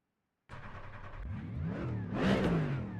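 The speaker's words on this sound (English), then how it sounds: "Ooh, this car sounds so good." A race car engine in the iRacing sim revs up and climbs in pitch, growing louder toward a strong high-revving peak near the end, heard alone and close.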